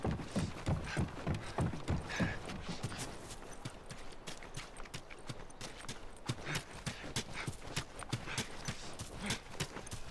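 Rhythmic clip-clop of horse hooves trotting in the game The Last of Us, steady and fairly close, continuing without pause over a quiet background.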